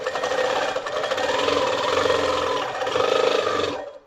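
A quilting sewing machine stitching after its top tension is eased, a loud, continuous buzzing whir that shifts slightly in pace, then stops abruptly at the end.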